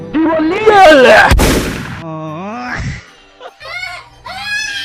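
In a cartoon, a single sharp gunshot cracks loudly among exaggerated wailing and whimpering voices.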